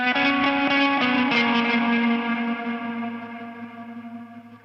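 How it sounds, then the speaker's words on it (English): Guitar lick from a cover, heavily effected with tremolo and a touch of reverb: a sustained, shimmering chord line with rapid pulsing, loud at first and slowly fading out. "So you can hear the tremolo on that."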